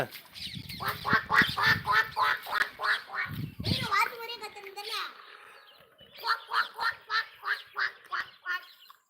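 Repeated rhythmic duck quacks in quick runs in a Tamil village, close and loud, with a short stretch of a person talking in the middle.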